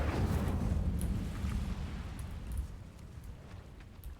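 A fire spell cast in the video game Hogwarts Legacy, a loud roaring burst that fades into a rumbling, crackling tail over a few seconds, with no talking.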